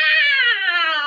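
A voice imitates a cat's meow, one drawn-out, loud, wavering cry held close to the listener, sliding slowly downward in pitch over about a second.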